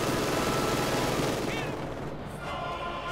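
MG42 machine gun fire in Company of Heroes 2, loud continuous rapid bursts filling the battle soundscape with dense rattling shots and distant explosions.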